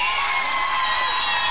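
Crowd at an outdoor street karaoke contest on a town square, cheering and applauding loudly and steadily throughout, with shouts and whoops mixed into the dense noise.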